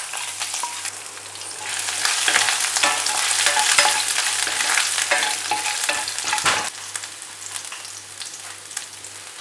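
Ginger and dried red chillies fry in hot oil in a pan while making mango rice, a loud steady sizzle with stirring scrapes running throughout, no voices.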